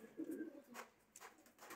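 Soft, low pigeon cooing, a couple of throaty coos close by from fancy breeds such as Feroz Puri, Rampuri, Sialkotti, Sadhna and Teddy, with faint background noise and no talking.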